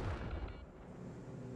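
A railgun shot striking a building in the game Star Citizen: a deep, muffled boom at the start that rolls off into a low, fading rumble, quiet and distant.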